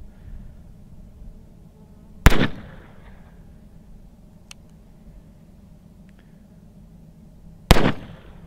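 Two sharp, loud gunshots from a Smith and Wesson No. 1 revolver firing .22 Short cartridges outdoors, spaced about five seconds apart, each cracking over a quiet background with a brief tail.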